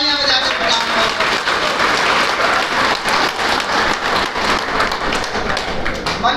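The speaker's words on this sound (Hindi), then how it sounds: "एक बार उनके लिए तहे दिल से तालियां बजाकर" A crowd claps heartily at a Youth Congress rally with village heads on stage: a loud, dense, continuous wash of clapping that stays steady throughout, close and full, with faint voices mixed in.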